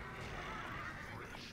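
A horse in a video game whinnies faintly behind low background sound in a short burst.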